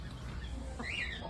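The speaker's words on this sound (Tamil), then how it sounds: "அவங்கக்கிட்ட வாங்கின சேவல் தான் இது." A rooster from Kathirvel Farms in Karur on a small farm gives a brief, faint cluck over steady low background hum, with no speech.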